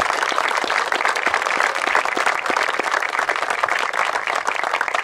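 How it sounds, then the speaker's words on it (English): An audience applauds Neil Rennie with dense, steady clapping from a crowd that stays loud and even throughout, with no voices over it. "if everybody give Big Neil Rennie a big round of applause"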